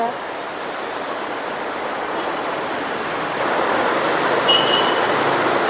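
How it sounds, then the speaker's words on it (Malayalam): Dense, steady hiss of heavy rainfall pours continuously onto a road, a broad even wash that swells slightly in the second half. "ഭയങ്കര മഴ"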